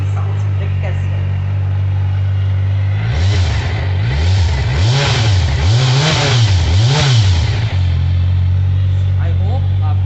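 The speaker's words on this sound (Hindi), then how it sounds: "चलिए अब इसकी इंजन की साउंड सुनते हैं कैसी है।" A Kawasaki Versys 1000 motorcycle idles steadily up close, then revs repeatedly in a rhythmic series of rising and falling throttle blips before settling back to idle. Someone talks faintly at moments.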